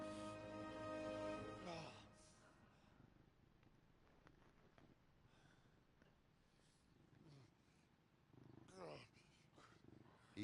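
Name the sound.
cat purring in Kingdom Come: Deliverance video game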